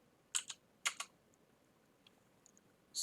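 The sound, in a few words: typing on a computer keyboard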